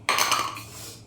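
A metal utensil strikes an iron bhakri griddle once while sandge vadas are cooked. The sharp, close clink rings out and fades over about a second, with no talk.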